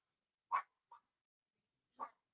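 A dog gives two short barks about a second and a half apart, with a softer yip between them, each sharp and fairly close against silence.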